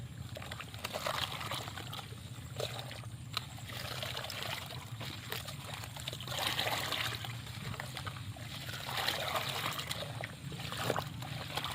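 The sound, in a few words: stirring potato pieces and charcoal in a water bucket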